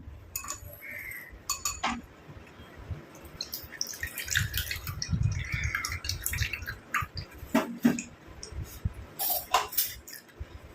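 Curry leaf juice is strained into a bowl: uneven drips and trickles fall at close range, with a few light clinks of a utensil against the bowl.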